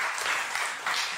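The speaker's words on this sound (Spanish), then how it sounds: "¿Y qué les parece si le tributamos un aplauso fuerte?" Brief burst of audience applause honoring a woman's work, a dense, fairly faint wash of clapping with no voices.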